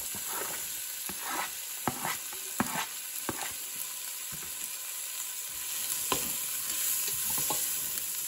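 Chorizo sweating in its own fat with added onion, frying steadily in a pan with a constant broad sizzle, punctuated by sharp scrapes and clacks as a utensil stirs and pushes the pieces around, close and moderately loud.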